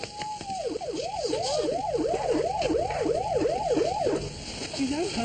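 An ambulance siren wails in a fast, repeating yelp of about a dozen rising-and-falling cycles. It is loud and close over a steady background hum, then cuts off near the end.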